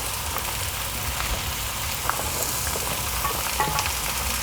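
Chopped pumpkin frying in hot oil in a pan and being stirred for a traditional village-style pumpkin dish; a constant close sizzle with occasional faint scrapes and clicks of stirring, no speech.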